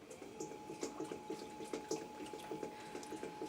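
Wet hands work clay on a spinning pottery wheel while centering a ball of clay for a bowl, giving a soft, regular squelching pulse over a steady motor hum.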